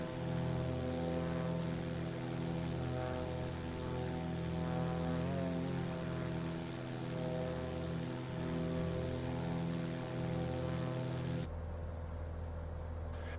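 A propeller engine drones steadily on a Flysimware C24R Sierra in a flight simulator, a constant humming tone that drops abruptly in level near the end.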